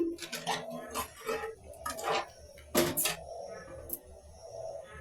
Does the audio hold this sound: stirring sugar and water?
yes